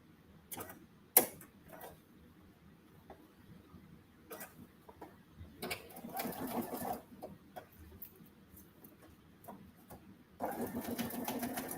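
A sewing machine top-stitches a vinyl cross-body bag in short, faint mechanical bursts with clicks and pauses in between, building to a longer steady run near the end.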